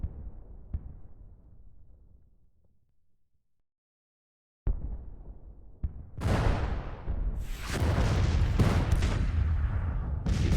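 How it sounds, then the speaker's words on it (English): Cannon and gunfire from a Civil War strategy game, with a deep rumbling boom fading out, a short silence, then a loud, dense barrage of blasts and crackling shots that continues to the end. "His cannons are firing on me."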